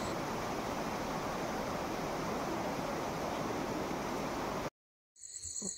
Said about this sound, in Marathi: पाण्याचा फ्लो बघा एकदम हायफाय वाटतं असं गावाला आल्यावरती.